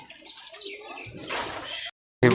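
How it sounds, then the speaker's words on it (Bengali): A male pigeon coos softly and briefly at close range, with a rustle that may be wing movement, before a short silence and an abrupt clipped sound at the end. "এটা একটা নর কবুতর"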